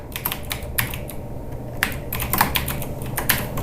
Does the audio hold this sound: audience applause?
no